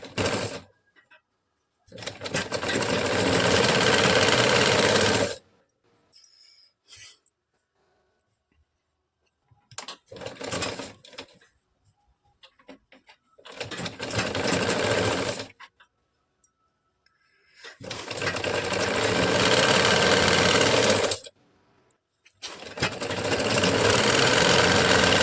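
Sewing machine stitching a half-inch seam on a katori blouse belt strip, running in four long loud bursts of steady whirring separated by pauses with faint handling clicks.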